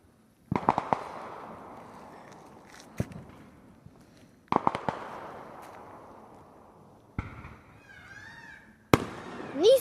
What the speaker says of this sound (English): I have more fireworks.